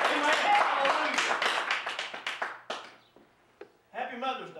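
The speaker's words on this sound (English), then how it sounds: "Let's give him a hand clap of praise." A church congregation claps together in a dense burst of applause that thins out and fades, followed by a brief pause and a voice.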